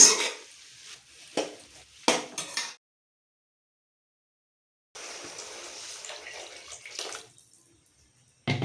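Water is poured and splashed into a pan of eggplant curry (ennai kathirikai kuzhambu) in a few short gushes, then a longer steady pour, with quiet gaps in between.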